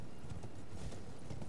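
Horse hooves clop in a steady, even rhythm throughout, a close and continuous trot from a mount ridden through the Elden Ring video game.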